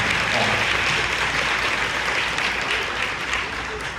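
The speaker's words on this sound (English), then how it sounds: "I want to give you a round of applause myself because you have done a great job." Steady, dense applause at a lion dance championship high pole competition, a broad, even roar of many hands clapping throughout, with no clear voices over it.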